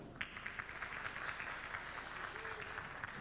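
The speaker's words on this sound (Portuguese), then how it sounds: "Para os aplausos de vocês, Silvana Giovannini." An audience at a national poetry declamation festival breaks into sustained applause. The clapping is dense and moderately distant, filling the whole stretch at an even level.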